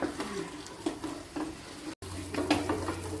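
Chicken frying in an uncovered pan, a steady close sizzle broken by repeated scraping stirs of a utensil against the pan, with a short gap midway.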